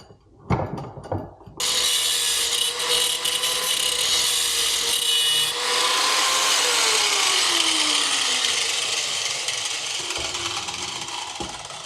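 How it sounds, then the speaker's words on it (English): An angle grinder cuts through a fish finder mount in one long continuous bright, harsh grinding run lasting about ten seconds, close and loud after a few short knocks. "I wonder if a quick whack with the angle grinder will do it."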